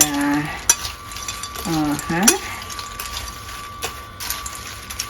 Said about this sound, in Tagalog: Let's try to mix the nuts and